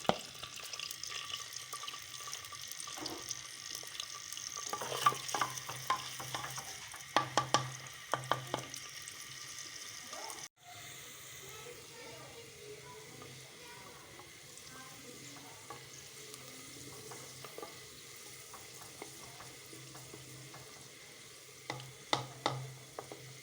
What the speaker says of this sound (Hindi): तेल गर्म हो गया, मैं इसमें प्याज डाल रही हूँ और इसे हम फ्राई कर लेंगे गोल्डन ब्राउन।